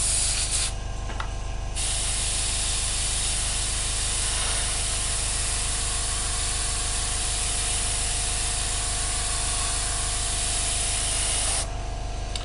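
Steady airbrush hiss of paint spraying onto an Academy 1/48 Raptor model kit, continuous and close, with only brief dips in the upper hiss near the start and end and a low hum underneath.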